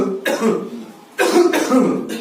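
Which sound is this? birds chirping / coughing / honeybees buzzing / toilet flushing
coughing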